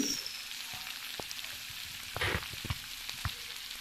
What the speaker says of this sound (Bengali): এবার সয়াবিনগুলো মশলার সঙ্গে ভালোভাবে কষিয়ে নেব